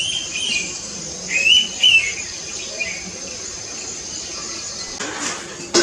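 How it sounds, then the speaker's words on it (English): An Indian Pitta (Pitta brachyura) gives a few clear whistled calls in a forest, with two brief bursts near the start of the clip over a steady hiss of insects and other faint bird chirps. "I'm waking up with a wild call of Pitta."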